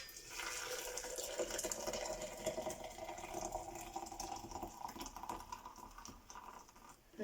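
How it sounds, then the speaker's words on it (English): Hot water poured from a kettle onto chocolate nibs in a jug, a soft, close, continuous trickling splash that tapers off near the end. "So then we just pour in the hot water."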